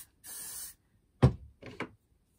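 A short hiss of hairspray, followed by a couple of brief knocks or handling sounds nearby.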